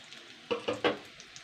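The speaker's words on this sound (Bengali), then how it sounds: "সুন্দর করে হালকা লাল করে ভেজে নেবো" Spinach and egg fritters frying in hot oil, with three quick sizzling bursts close together, then faint crackling and bubbling that tapers off.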